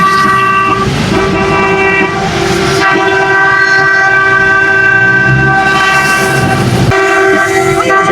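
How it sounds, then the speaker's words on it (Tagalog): A vehicle horn sounds loudly in a long sustained blast with stable harmonic tones, briefly pausing and resuming, over constant engine and road rumble, apparently heard during an emergency rescue drive. "Busina."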